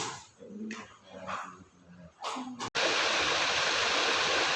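The Tembung River in Desa Tembung flows with a steady, loud rushing roar after a stretch of muffled talking and handling noise.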